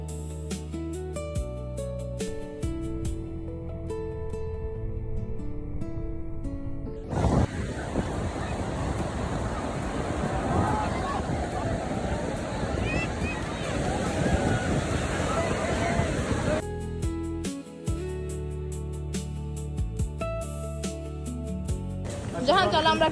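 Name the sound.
sea waves on a beach at Cox's Bazar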